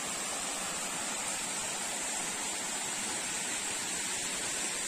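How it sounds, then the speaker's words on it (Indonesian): A waterfall at a river recreation spot in Jombang, East Java, gives a steady, dense broadband rush of falling water that holds evenly throughout, with no voices over it. "Air terjun."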